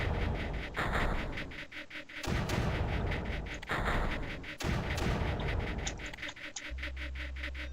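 Weapon shots fired in the strategy game Creeper World: several heavy booming blasts spaced a second or two apart, over a continuous crackling, pulsing background, with no voices.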